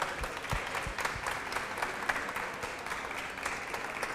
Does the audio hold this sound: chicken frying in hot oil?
no